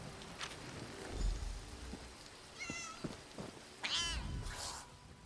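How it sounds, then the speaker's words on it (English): A cat in the video game Elder Scrolls Online meows a few times at moderate distance, with soft rustling ambience behind it. "Star is a cat."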